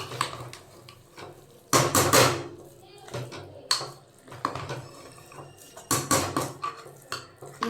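Khichuri with matar dal being stirred in a cooking pot, a spoon clanking and scraping against the metal in irregular, close bursts with short pauses between.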